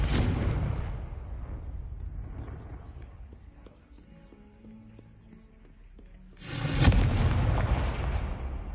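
A Confringo spell explodes in a Harry Potter-style video game with a deep rumbling boom that fades out slowly, followed by a quieter stretch and then a second heavy blast, each decaying with a long low tail.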